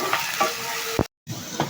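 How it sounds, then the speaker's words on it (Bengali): Potatoes frying in oil in a pan, with garlic and green chillies, sizzle in short bursts. A spoon stirs them in a few scraping strokes, and there is a brief silent gap partway through. "আর একটু তেল দিয়ে নেব, ভেজে নেব।"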